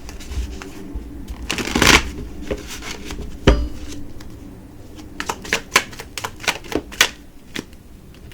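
Tarot cards are shuffled in a loud, close riffle, then handled in a string of sharp snaps and taps as cards are drawn and laid down, with no talking.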